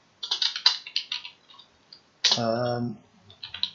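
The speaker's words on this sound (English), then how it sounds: "it's taken me about 30 seconds to type one word" Quick irregular clicking of keys on a computer keyboard, close and clear, pausing midway while a voice briefly speaks over it, then resuming.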